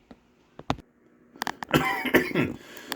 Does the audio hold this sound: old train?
no